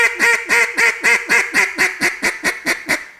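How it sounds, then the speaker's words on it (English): A hunting-style hail call blown on a duck call, a loud, close series of about twelve evenly spaced quacking notes that gradually descend and soften toward the end. "I'm gonna throw this hail call out like this"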